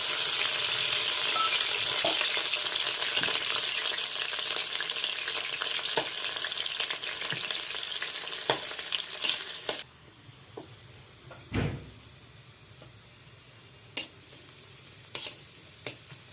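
Onions and green chillies frying in oil, a strong continuous sizzle with scraping stirs that drops suddenly to a quieter crackle about two-thirds through, punctuated by occasional utensil clicks.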